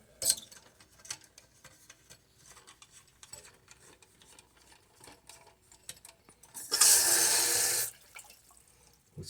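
Quiet drips and small trickles in a toilet tank, then a burst of rushing water refilling it for about a second before it stops, close by.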